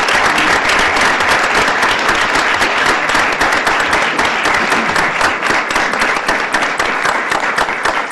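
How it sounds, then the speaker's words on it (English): A council chamber crowd applauds a local citizen at a city council meeting in Tustin, with dense, steady clapping that stays loud and even throughout without a break. "a great round of applause for a great citizen of the city of Tustin."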